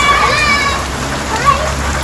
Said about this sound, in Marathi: आता एवढा पाऊस आहे